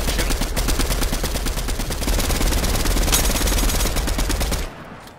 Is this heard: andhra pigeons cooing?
no